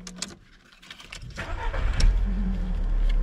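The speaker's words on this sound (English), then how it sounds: "the engine started working again" Car engine starting: a brief crank, then the motor catches and rises to a loud, steady rumble near the microphone, with faint handling noises at the start.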